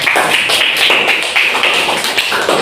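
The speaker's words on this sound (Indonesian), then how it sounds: "Tepuk tangan untuk Abah dulu." An elementary class at SD Negeri 17 Pekanbaru claps in a crisp, fairly regular rhythm, loud and close, with voices sounding along between the claps.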